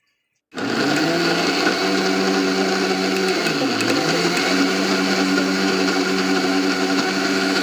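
A loud, steady whirring of a mixer grinder grinding roasted peanuts into powder, running continuously after a brief silence, its motor pitch dipping briefly midway.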